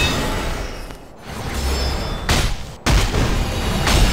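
A defense tower being destroyed during a fortress siege war battle in the mobile game Lineage 2 Revolution: deep booms and crashing bursts, a couple of sharp loud impacts over a busy, rumbling battle bed.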